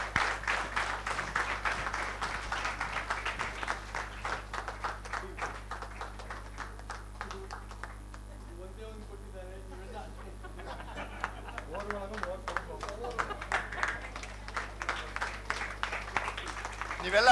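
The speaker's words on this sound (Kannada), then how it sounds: "ಇವರು ಅದಕ್ಕೆ ಎಲ್ಲರೂ ಸ್ಪೆಷಲ್ ಚಪ್ಪಾಳೆ ಕೊಡ್ತೀವಿ" An audience applauds in dense, steady clapping that eases off midway, leaving a stretch of murmuring voices, then swells back up to a full round of applause near the end.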